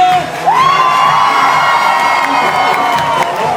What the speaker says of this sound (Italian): Adesso vogliamo sentire tutta la vostra voce!